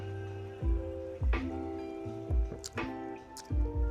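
Nutrl vodka seltzer pours from a can into a glass, with close glugging bursts, a steady liquid fill and gurgling drips.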